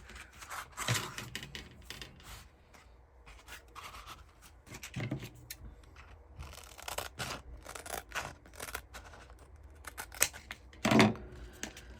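Scissors snip through wreath decoration material at close range, a series of crisp separate cuts mixed with rustling and handling noises, fairly quiet and without talk.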